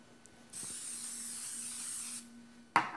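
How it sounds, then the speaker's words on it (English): Cooking spray from an aerosol can, coating a pan for cheddar biscuit bits: one steady hiss of nearly two seconds, close and fairly loud, followed by a short clatter. "We're going to take a little bit of spray"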